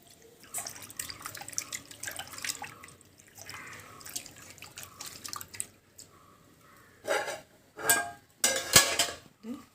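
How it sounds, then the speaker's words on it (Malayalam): Tamarind water poured into a simmering drumstick and tomato curry, heard as intermittent trickles and drips with splashy bursts toward the end, close by and moderately loud. "പുളി ഒഴിക്കുക. പുളി ഒഴിക്കട്ടെ."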